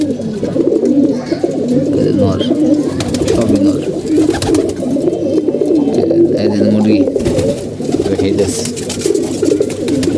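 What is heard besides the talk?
pigeons cooing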